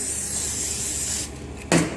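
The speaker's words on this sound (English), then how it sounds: "We're going to spray it with some pan spray generously." Nonstick pan spray hisses out of an aerosol can into a baking pan in a steady spray lasting over a second. A short pause follows, then a brief knock as the can or pan is handled.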